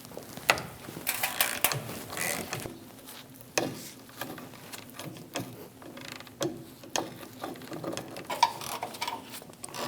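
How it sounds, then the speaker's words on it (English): An 18mm socket on a ratchet loosens the two rear brake caliper bracket bolts on a 2001-2006 Chevrolet Silverado 2500 HD, with quiet repeated clicks and metallic clatter at close range, no voices. "Using an 18mm socket, remove the 2 caliper bracket bolts."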